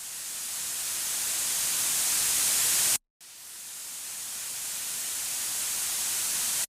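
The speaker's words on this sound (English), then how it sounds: "the next sound is reverse crash." A reverse crash cymbal synthesized with 3X OSC in FL Studio, a dense hissing noise that swells steadily louder, stops abruptly, then swells again in a second identical rise, with no voices.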